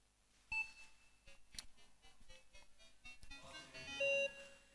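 Faint electronic beeps from a metal detector at varied pitches, short chirps and a longer steady tone near the end, with scattered clicks and quiet handling noise.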